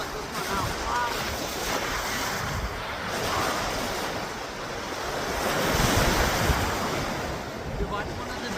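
Ocean waves washing onto a Miami, Florida beach: a steady, loud roar of surf with swells rising and falling, mixed with gusty wind buffeting the microphone throughout.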